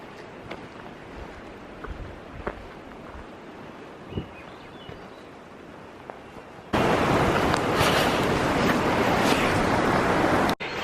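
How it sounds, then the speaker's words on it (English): The Tonsina River in Alaska, a low steady rush of flowing water at first, then a much louder broadband roar that takes over for several seconds before cutting off near the end. "found this spot right here by this beautiful river. And I think it's called Tonsina River."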